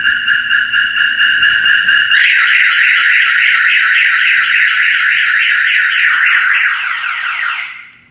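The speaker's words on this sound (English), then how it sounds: "The alarm will fire off." A loud electronic trailer alarm blares continuously when the door is opened, first a steady tone, then a rapidly warbling siren that holds for several seconds before cutting off.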